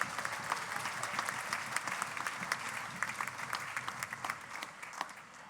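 At a singing competition event, an audience gives a steady round of applause for the vote tabulators, many hands clapping in a lively, even patter at moderate distance with no talk over it.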